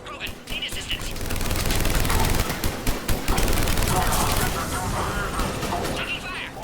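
Sustained gunfire rattles through a Mass Effect 3 firefight as Cerberus troops attack at a checkpoint, with dense rapid bursts and sharp cracks building to a loud peak before easing slightly, under overlapping voices.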